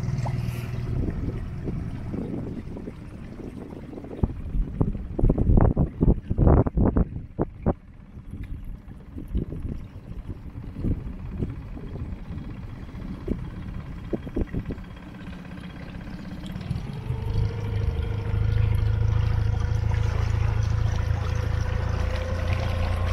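A dinghy with an outboard moves through shallow mangrove waterways at Shroud Cay in about 8 knots of southerly wind. Splashing and knocking come first, then a steady motor drone rises and holds near the end.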